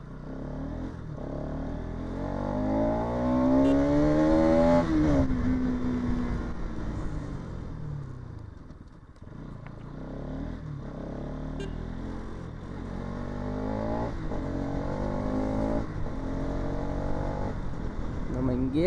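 Bajaj Pulsar NS200 motorcycle on a road ride, its engine droning steadily with rising and falling revs through the whole stretch, close and fairly loud, with wind noise and occasional voices over it.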